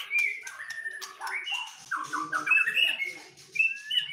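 Caged songbirds offered for sale, including a male Kalimantan magpie-robin, singing loud, close, varied whistled phrases and chirps in quick succession with short pauses, no talk.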